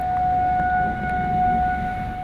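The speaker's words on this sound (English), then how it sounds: "As storm sirens rang out" Outdoor civil defense storm warning sirens wail steadily in Moline after a storm, a sustained loud two-tone drone with a slight swell in volume, heard alone over faint background noise.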